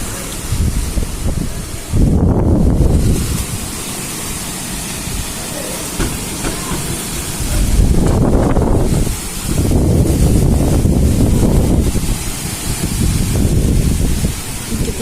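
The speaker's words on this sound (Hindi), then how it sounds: "पूरा हवा बह रही है" Strong stormy wind at mid-morning on a dark day, buffeting a microphone and rushing through trees in loud recurring gusts, with no talking.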